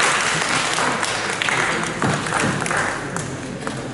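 A crowd at the National Bestseller literary award ceremony applauds, steady dense clapping filling the hall, loud and close.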